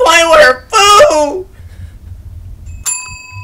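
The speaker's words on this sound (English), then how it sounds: "Bell has been rung a fourth time." A bell rings once in a horror video game, a bright struck tone with a long ringing decay, following two bursts of loud, strained vocal sound and a quiet gap.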